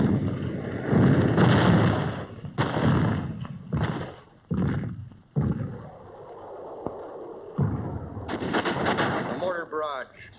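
Mortar barrage and gunfire during the battle of Iwo Jima, heavy thumping blasts and bursts of fire in rough succession over a wartime newsreel narration.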